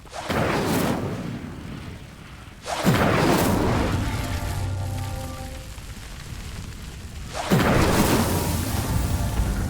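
In the video game Hogwarts Legacy, an Incendio fire spell ignites a pyre with a series of deep roaring whooshes, three loud bursts of flame each swelling and rumbling on before the next, no talk.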